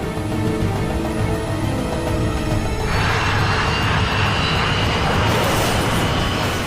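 A KLM jet airliner at Tenerife bears down the runway at nearly 200 miles an hour, a loud, continuous, broadband engine roar that swells and grows harsher partway through, with no voices.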